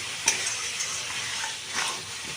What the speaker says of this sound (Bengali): এই যে মশলার সাথে এখন কষিয়ে নিচ্ছি মটরশুঁটিটা আলু মটরশুঁটি মশলা